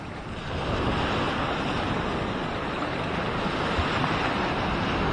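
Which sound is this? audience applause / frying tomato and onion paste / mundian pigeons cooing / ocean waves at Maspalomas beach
ocean waves at Maspalomas beach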